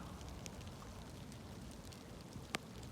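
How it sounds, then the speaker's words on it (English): Light rain falls as a faint, even patter and hiss in an open outdoor setting, with a few scattered drop ticks and one brief sharp click. "It's raining."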